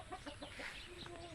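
Chickens clucking at a farm, a run of short, rhythmic clucks repeating close by over a faint background, with no talking.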